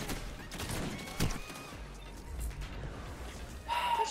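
A video-game shotgun fires several loud, sharp blasts, each with a crashing tail, spread across a few seconds against faint game tones in the background.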